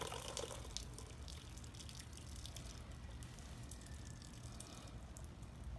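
Water drains out of a Hayward Pro Grid pool DE filter element that sits tipped on its side, a soft, steady trickle and drip heard close and quiet throughout.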